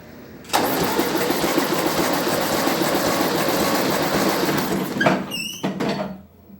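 A Ferguson TEA20 tractor engine cranking over steadily for several seconds during a compression test, loud and close, then stopping with a few clanks and a short squeak.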